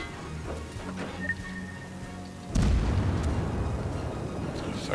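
Gunfire from the tier 7 Japanese cruiser Mogami in the naval game World of Warships: a low, steady engine rumble, then a heavy broadband salvo boom that swells and rolls on to the end.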